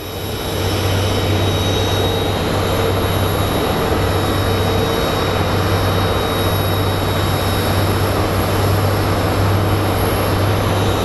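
A Southwest Airlines jet at Phoenix Sky Harbor airport gives a loud, steady engine roar with a constant low drone and a high whine, sustained without letup for about ten seconds.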